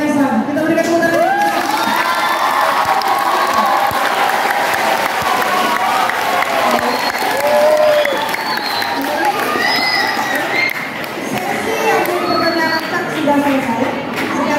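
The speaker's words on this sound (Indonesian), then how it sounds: "Kita berikan tepuk tangan." A school crowd of junior high students at a student council election debate breaks into sustained loud applause with cheering and children's shouts, a dense continuous roar in an indoor hall that carries on for the whole stretch.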